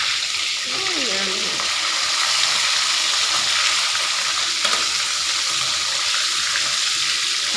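Whole fish deep-frying in hot oil as it begins to turn golden, a steady close crackling sizzle holding throughout with a faint clink near the middle.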